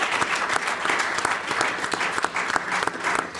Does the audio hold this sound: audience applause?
yes